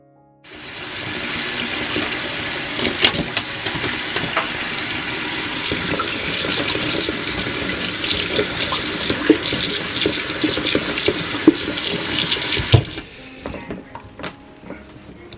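Tap water pours steadily into a kitchen sink for a long, loud, unbroken stretch, then cuts off near the end, leaving a quiet room.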